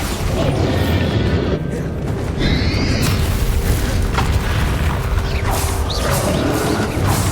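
A Bombardo spell explodes during a Hogwarts Legacy battle, a loud sustained blast with rumbling, crackling debris and mechanical clanks over a dense game soundscape.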